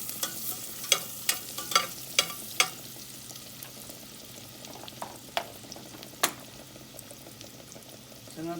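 Ginger sizzles in a pan as arroz caldo is started for breakfast, a soft steady fry under several sharp clinks and taps of a utensil stirring against the pan.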